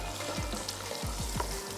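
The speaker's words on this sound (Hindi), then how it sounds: "तो अब हम इसमें ऐड कर देते हैं चिकन और अच्छा सा इसको करते हैं फ्राई।" Chicken sizzles steadily in a pan with ground garam masala, a close, continuous hiss and crackle with a few stirring scrapes and a faint low hum underneath.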